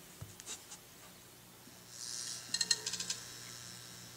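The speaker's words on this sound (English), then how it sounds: "you get a marquee display complete with the sound effects of the marquee lighting up" Quiet, sparse electronic chimes and soft clicks from the iMovie iPad app's marquee lighting up, then a bright shimmering swell topped by a quick run of sparkling, tinkling tones.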